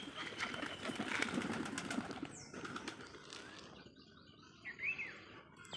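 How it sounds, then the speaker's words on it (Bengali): Red Koka pigeons flap their wings at feeding time, soft fluttering bursts amid chirps and coos from a flock nearby, fairly faint against a busy outdoor background. "এগুলো হচ্ছে কোকা কবুতর"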